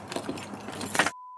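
A short jingle of keys jangling up close, ending abruptly in silence followed by a steady electronic tone.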